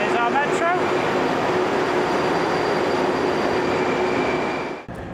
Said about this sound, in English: Here's our metro.